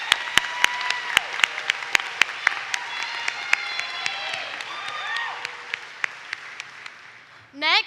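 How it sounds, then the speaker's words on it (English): Audience applause at a school district convocation, steady clapping from a crowd that swells and then fades over several seconds, with voices faintly present in the room. "Let's give him another round of applause."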